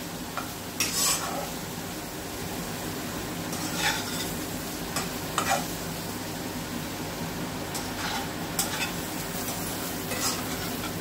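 Yam pieces coated in spices fry steadily in a pan, a continuous soft sizzle with occasional stirring scrapes and utensil clinks, close and alone with no talking.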